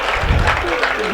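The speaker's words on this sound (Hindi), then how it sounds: "तालियां बजाए तो मन से बजाए दोस्त।" An audience at a Hindi comedy poetry recital fills a short burst with dense, continuous clapping, the crowd close and steady throughout.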